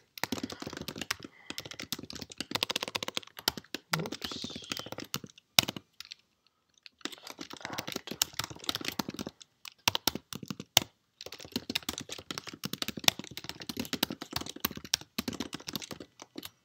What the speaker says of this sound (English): I will type all these code first, then we explain it.